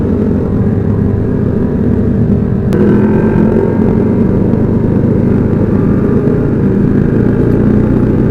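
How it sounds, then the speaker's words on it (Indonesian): Loud, steady engine roar from motorcycles with open racing exhausts on a Sunday morning group ride in Makassar, a dense rumble that stays constant throughout with traffic noise mixed in. "Paling ribut knalpotnya di sini."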